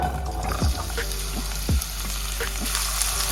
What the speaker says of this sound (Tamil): ஆயில் ஆட் பண்ணிக்கலாம். கட் பண்ணி வச்சுருக்க வெங்காயம், தக்காளி, பச்சை மிளகா